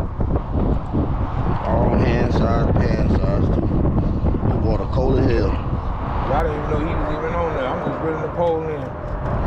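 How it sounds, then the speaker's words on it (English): Strong wind buffets the microphone on an open fishing boat during bluegill and shellcracker fishing, a steady loud roar running the whole time under excited shouting and talk. "That's how bad that wind is"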